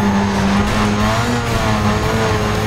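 A car in the video game Need for Speed Most Wanted drives at speed, its engine roaring loud and steady while the tyres squeal and skid in a sustained, dense wash of racing noise, without speech.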